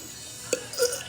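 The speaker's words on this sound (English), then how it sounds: "I can burp on purpose." A girl burps on purpose: two short, close throaty burps, the first brief and sharp, the second slightly longer, over a quiet background.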